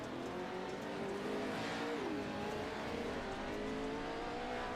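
PRO-2 off-road race trucks roar at Crandon in iRacing, a loud steady engine drone with pitch sweeps as the throttle shifts, running continuously without pause and with no talk over it.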